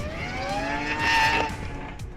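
A 6-rotor Mazda FD RX-7 drift car screams at high revs with tire squeal at a drift event, loud and close, rising to a peak midway then easing.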